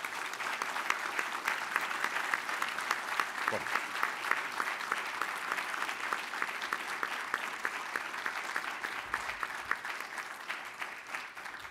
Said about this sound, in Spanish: Para todos ellos pido un fuerte aplauso